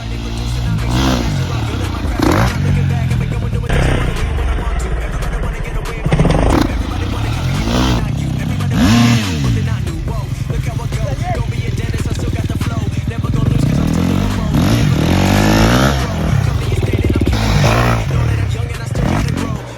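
A loud motocross motorcycle engine revs up and down repeatedly, rising and falling in pitch, with some clattering and background voices.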